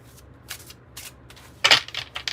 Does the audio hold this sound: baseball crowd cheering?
no